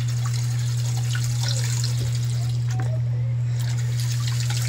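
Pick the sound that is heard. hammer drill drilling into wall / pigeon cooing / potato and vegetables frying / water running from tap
water running from tap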